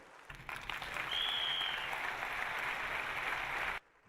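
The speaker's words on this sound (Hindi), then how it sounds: "उनके लिए एक बार जोरदार और डायरेक्ट दिल से ताली होनी चाहिए" Strong applause from an audience at a SAFE SHOP business event, a steady even roar of clapping that rises in and then cuts off abruptly, heard alone without speech.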